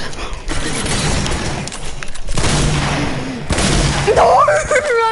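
Pump shotgun blasts in a video game ring out amid a chaotic firefight, with loud bursts, rumbling impacts and a person shouting over the noise.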